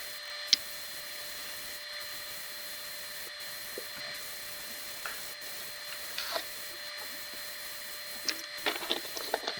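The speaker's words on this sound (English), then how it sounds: "So here I sand from 80 to 220. And I do that dry." Power sander dry-sanding wood through grits from 80 to 220, a steady low whirring hum that runs throughout, with a few faint scrapes and knocks over it and no voices.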